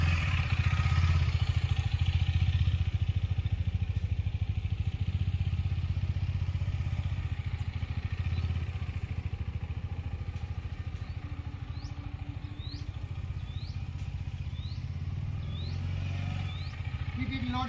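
An adventure motorcycle engine chugs steadily at low revs while riding slowly through mud, a constant close rumble with faint clatter and no talk over it.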